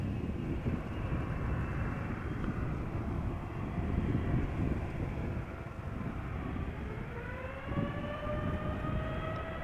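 The engines of a TUI Boeing 787-8 Dreamliner spool up for takeoff at Amsterdam Schiphol, a steady broad roar joined late by a rising whine that climbs in pitch.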